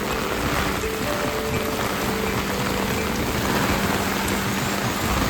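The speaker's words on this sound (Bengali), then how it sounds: "এদিকে পুরো ঝমঝম ঝমঝম করে বৃষ্টি হচ্ছে" Heavy rain pours steadily onto a street among narrow lanes during a thunderstorm, a dense, continuous broadband hiss and patter that stays loud and close throughout, with no voices.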